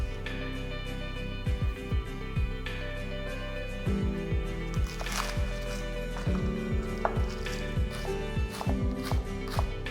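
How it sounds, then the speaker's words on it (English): Knife chopping four sticks of green onion on a cutting board, a steady run of quick, close taps repeating in short bursts across the whole stretch, over a faint background hum and no talk. "Four sticks of green onion, finely chopped"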